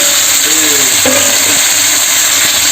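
Tomatoes dropped into a pan of fried onions give a loud, steady sizzle that fills the whole stretch, with faint clatter over the hiss.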